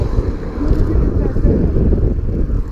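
Strong wind buffeting the microphone during rain, a low rumbling roar that gusts continuously throughout.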